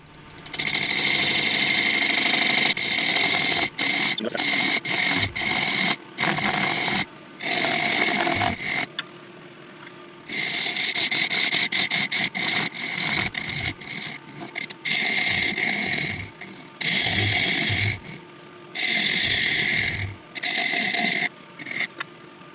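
A wood lathe turns the bottom of an ash and resin bowl, giving loud continuous scraping and whirring in repeated stretches broken by brief pauses as the tool meets and leaves the spinning wood.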